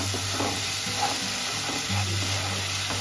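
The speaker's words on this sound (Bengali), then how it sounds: "নেড়ে নেব।" Vegetarian pointed gourd filling stirred and fried in a pan with turmeric, cumin powder and sugar, a steady close sizzle with soft scraping stirs throughout.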